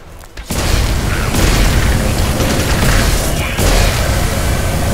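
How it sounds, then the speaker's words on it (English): Loud, sustained booming explosions in the video game Magicka roar almost continuously after a brief quiet start, with sharp bursts layered in the dense rumble. "I'll fill him with explosions"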